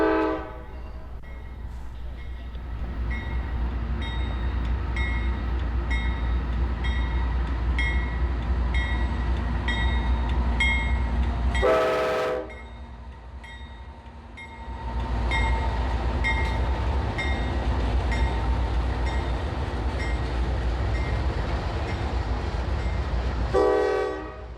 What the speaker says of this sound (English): E855 is an empty coal train